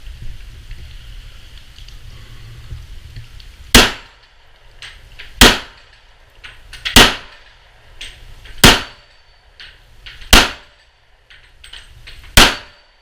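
Six gunshots fired at steel targets, each a loud sharp crack with a metallic ring, spaced roughly one to two seconds apart in an even, fairly rapid sequence, with quiet background between shots.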